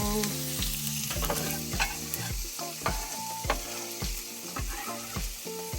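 Finely chopped onions tossed into a hot pan, a loud steady sizzle with regular scraping stir strokes close by.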